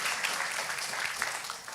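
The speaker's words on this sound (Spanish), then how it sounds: "Alguien puede darle ese fuerte Somebody aplauso can al give the Señor. strong applause to the Lord." Church congregation applauding during a sermon, soft continuous clapping from many hands that sounds somewhat distant and fades slightly toward the end.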